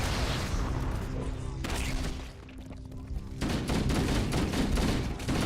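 Grenade blast and rapid gunfire in a Halo match, dense crackling bursts throughout with a louder burst of shots toward the end, loud and close.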